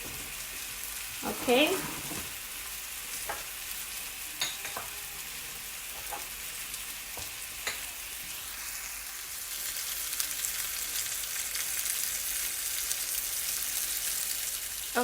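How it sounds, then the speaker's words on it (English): Salmon steaks sear in a pan with a steady, quiet sizzle, with a few brief stirring or handling clicks near the start and a single short spoken word at the beginning. "my salmon has been going for about 3 minutes on one side"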